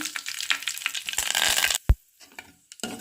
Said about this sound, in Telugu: ఆవాలు జీలకర్ర కూడా వేసుకున్నాం కదండి ఇంకా బాగా వేగుతున్నాయి